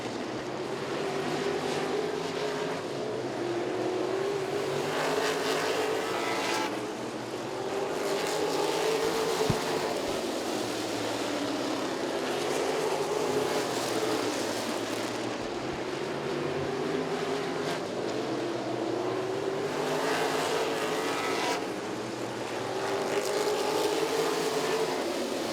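Modified race cars roar around Southside Speedway, engines rising and fading in repeated waves as the pack passes, a continuous loud racing drone heard from trackside.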